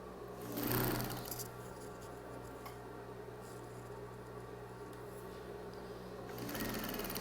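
A sewing machine stitches two pieces of sturdy fabric placed right side to right side, running steadily at a fairly low level with a louder burst near the start and again at the end.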